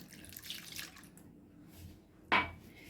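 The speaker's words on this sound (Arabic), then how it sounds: "أول حاجة هنحط اللبن زي ما احنا شايفين كده" Warm milk poured into a cup makes a faint, soft liquid trickle, followed by a brief, sharper splash near the end, all quiet and close.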